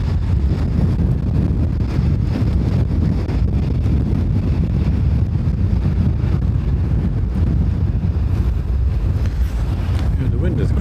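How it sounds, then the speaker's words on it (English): Strong, gusty wind at Dublin Airport buffets the microphone as a loud, constant low roar and rumble that fills the whole stretch. "the wind is crazy up here"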